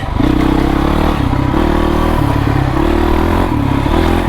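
Honda CRF450X dirt bike ridden on trails, its engine running loud and close throughout with a steady throbbing note that shifts pitch in surges as the throttle opens and eases.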